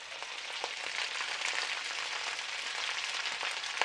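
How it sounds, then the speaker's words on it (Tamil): Vegetables and bok choy stir-fry in a pan for veg noodles, producing a continuous, moderately loud hiss and sizzle throughout with a few faint crackles and no talking. "ஸோ ஒரு காயாக நம்ம எல்லாத்தையும் போட்டு நல்லா ஃப்ரை பண்ணிக்கலாம்."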